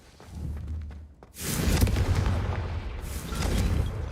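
The Confringo spell blasting candelabras in the Hogwarts Legacy video game: a short burst, then a loud, sustained fiery boom and crackle lasting several seconds, with a second swell near the end.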